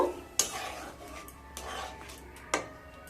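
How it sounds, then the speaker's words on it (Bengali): Pointed gourd curry with yogurt stirred in a pan after a little water goes in, a few sharp utensil knocks against the pan among soft scraping strokes, close and quiet, with no talk. "দিয়ে আবারও মিশিয়ে নেব।"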